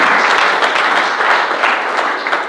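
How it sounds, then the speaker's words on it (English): Audience applause for a group of high school coaches at a touchdown club kickoff event, a dense, steady round of clapping from a sizable crowd lasting the whole stretch without a break. "Let's give all these coaches another big round of applause."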